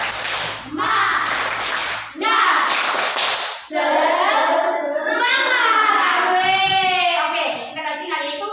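Schoolchildren do the 'tepuk semangat' spirit clap in a classroom, with bursts of group clapping and shouted chanting in several quick phrases.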